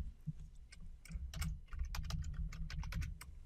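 Someone enters a password on a computer keyboard: a quick run of crisp, irregular key clicks, close and fairly quiet, with no talk.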